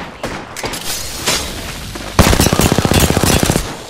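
Gunfire in the video game Apex Legends, with a few scattered shots and thumps at first, then a loud, rapid automatic burst of evenly spaced rounds that runs for over a second.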